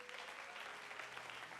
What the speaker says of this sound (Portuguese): Aplauda Jesus por isso.